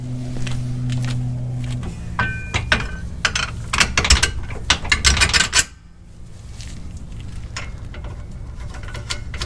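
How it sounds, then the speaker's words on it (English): A jack lowers the rear axle of a Jeep Gladiator, giving a busy run of metallic ratcheting clicks and clunks that grows louder before stopping abruptly near the middle, followed by quieter, scattered mechanical ticks, with no voices. "So I'm going to lower the axle back down so I don't have to fight putting the shock bolt in."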